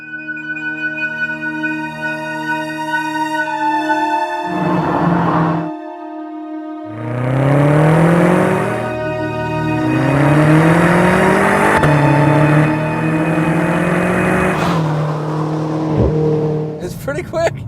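A 2014 BMW M5 Competition accelerates hard, its engine climbing through rising sweeps cut by sharp, aggressive dual-clutch upshifts, loud and close from inside the car.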